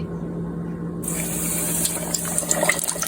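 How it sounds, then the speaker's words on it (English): Battered fish coated in egg and cornstarch dropped into hot grease, a loud continuous frying sizzle that starts abruptly and keeps crackling and popping close by. "Now the fish gonna fry up for a couple of minutes."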